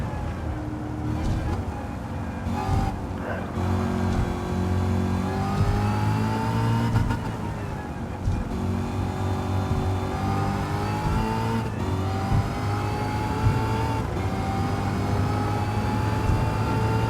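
Race car engine in a racing video game revving and accelerating with steady droning tones and rising pitch sweeps, continuous and loud throughout, with faint talk now and then.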